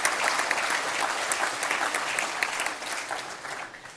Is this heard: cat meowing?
no